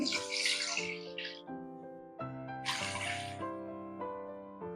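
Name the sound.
water being poured into a cooking pot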